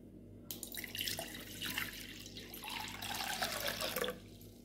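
Water poured from a pot onto washed barley, a soft continuous splashing and trickling stream that runs steadily for a few seconds, faint and close, with no talking.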